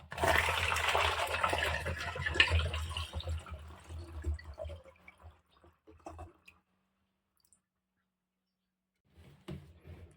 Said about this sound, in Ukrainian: І переливаю, друзі, в пляшку.